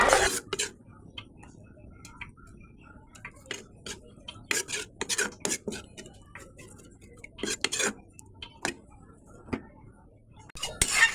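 A metal spoon scraping lentil dal from a wok-style karai, with irregular clinks and scrapes in short bursts across the whole stretch, close and fairly crisp, with quiet gaps between strokes.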